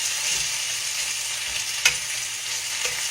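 Chicken gizzards spread out in a single layer fry slowly in a pan with a steady, even sizzle, broken by one sharp clink of a utensil midway.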